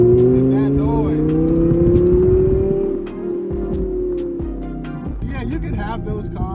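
Lamborghini Gallardo Spyder engine droning loudly, with pitch rising and falling through revs and a brief dip partway through, sustained and close.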